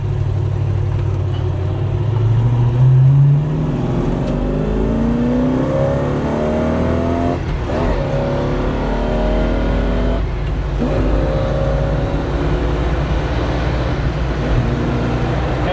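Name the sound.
car engine accelerating during test drive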